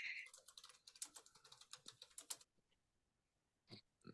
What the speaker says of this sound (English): Oh, I'm typing it in for you.